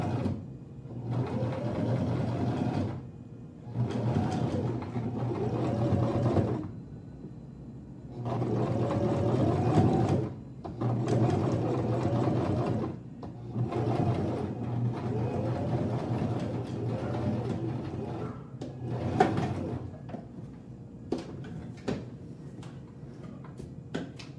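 A sewing machine stitches sequined fabric in repeated runs of rapid, rhythmic mechanical whirring, each lasting a few seconds and separated by short pauses as the fabric is pushed along.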